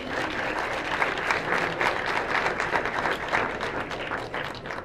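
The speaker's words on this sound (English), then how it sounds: "How about a big round of applause for that?" Audience applause fills a room at a youth awards dinner, a steady, dense wash of many hands clapping continuously throughout, moderately loud and close, with no speech over it.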